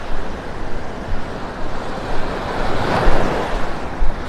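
Ocean waves wash onto a beach at Delnor-Wiggins in North Naples, Florida, on a calm morning, a continuous rough surf roar with gentle swells and a louder surge near the end, and no talking.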